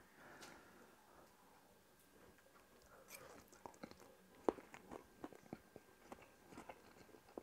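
Someone eats homemade chicken chow mein with soft noodles, spring onions and crunchy vegetables, giving quiet, close crunches and chewing clicks that come in irregular bursts against a hushed room.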